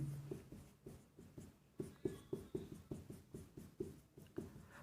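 Steady rhythmic pen or pencil strokes on paper during a wastewater and irrigation engineering drawing class, a close run of short scratchy repeated marks lasting several seconds, with no talk.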